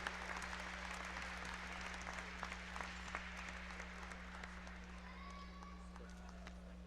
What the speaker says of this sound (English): let's have one more round of applause for this outstanding senior class for the 2019-20 Rose-Hulman men's basketball team